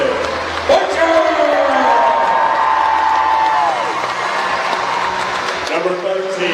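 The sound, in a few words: crowd cheering at high school basketball game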